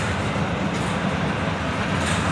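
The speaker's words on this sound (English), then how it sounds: "This is a very long double stack train." CSX double-stack freight train rolling past in Hamlet, North Carolina, a continuous loud rumble and rattle of cars with no break and no voices.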